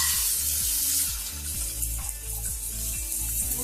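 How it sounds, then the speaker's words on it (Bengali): Dry corn kernels drop into hot oil with salt for homemade popcorn, giving a steady, close broadband sizzle that runs throughout alongside a low background music bed. "তেলটি গরম হয়ে গিয়েছে। এখন আমি শুকনো ভুট্টাগুলো দিয়ে দিব।"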